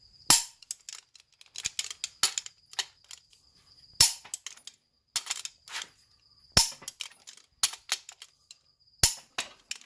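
A torque wrench tightens the main bearing caps of a big block Chevy engine to 110 foot-pounds, giving a series of sharp, close clicks in irregular bursts over a quiet background.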